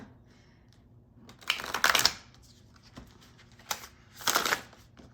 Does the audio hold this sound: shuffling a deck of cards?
yes